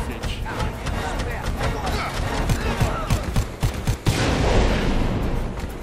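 Minigun fire in the video game Dead Rising 4: dense, continuous rapid gunfire bursts with rumbling impacts, loud and chaotic, with a heavier blast near the end, layered with game sounds and talk.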